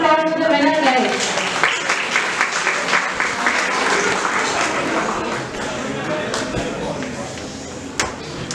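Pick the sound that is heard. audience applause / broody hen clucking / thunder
audience applause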